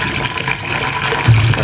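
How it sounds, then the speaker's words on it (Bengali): Hot water from a kettle pours into a rice cooker pot as a steady, close liquid splash and gurgle that holds for the whole moment, swelling slightly louder near the end, with no voices. "গরম পানি দিয়ে দিলাম।"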